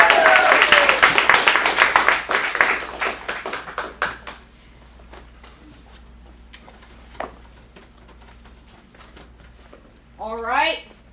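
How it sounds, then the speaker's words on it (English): An audience at an acting studio sketch showcase in Phoenix claps and cheers loudly for about four seconds, the applause thinning into scattered claps and quiet room noise, with a brief voice near the end. "Let's get a round of applause."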